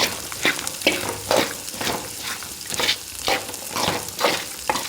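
Ivy gourd pieces fry in a hot pan with spices, a constant close sizzle broken by regular stirring strokes that swell and fade in a steady rhythm, loud and with no talking.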